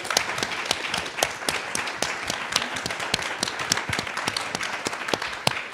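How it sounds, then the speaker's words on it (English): Applause from the audience at a panel discussion, a moderate room of people clapping with distinct individual claps standing out close by throughout. "I just wanted to give you all a little round of applause, and I hope you all join me"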